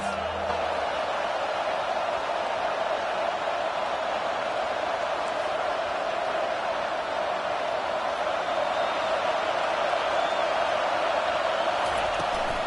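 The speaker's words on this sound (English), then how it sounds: "This crowd trying to make life miserable for this offense." A football stadium crowd at a Notre Dame versus Ohio State game keeps up a dense, steady roar of noise, loud and unbroken for the whole stretch.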